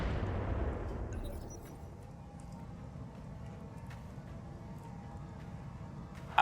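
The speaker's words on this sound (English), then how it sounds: "Is there something to show that we got tagged with the barrage?" A heavy artillery barrage lands in a turn-based video game, a loud low boom at the start that rumbles and fades into a long, quieter tail.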